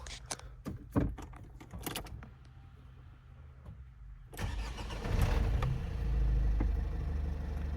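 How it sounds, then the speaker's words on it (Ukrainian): Several clicks and clunks, then the 2.0-litre engine of a 2013 Opel Vivaro van cranks and fires up, settling into a loud steady idle rumble close by. "Зараз я заведу, покажу, як авто працює."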